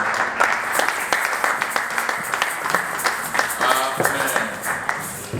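A church congregation applauds the Lord together, a dense steady patter of many hands clapping close by, with a few sharper individual claps standing out through the whole stretch.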